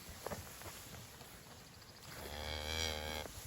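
Cattle moo in a grazing paddock, a single drawn-out low call rising in the second half after quieter rustling, fairly near and clear.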